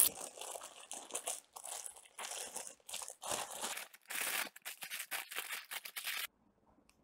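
Hands pull apart a bag of oyster mushroom mycelium grown from liquid culture, making close, loud crinkling, crunching and tearing sounds in steady bursts that stop abruptly near the end.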